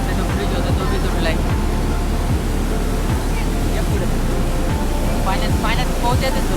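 Floodwater rushes loudly and continuously past the overflowing Kundmala waterfall during heavy monsoon rain, a dense, steady roar with low rumbling throughout, while voices talk faintly over it.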